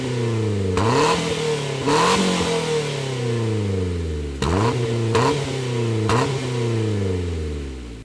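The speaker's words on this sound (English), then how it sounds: "The engine is a 2-liter Mazda engine." A 2-liter Mazda engine breathing through an HKS exhaust revs repeatedly, each blip rising sharply then falling away, five or six close, loud pulls in a row with no talking.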